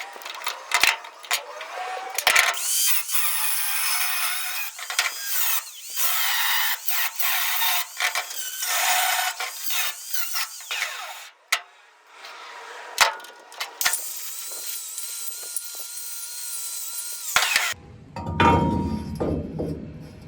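Harsh, continuous grinding or cutting noise notching metal on a 1970 Chevrolet C10 fitted with a 1999 Silverado axle, running for long stretches, pausing briefly, with a few clanks and knocks between passes.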